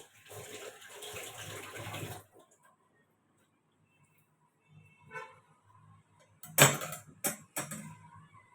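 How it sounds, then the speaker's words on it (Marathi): Tap water runs in a sink as hands are washed, a steady splashing stream for about two seconds that stops abruptly, followed by quiet, a few faint clatters and sharp clicks. "हात धुवून येतो खाली"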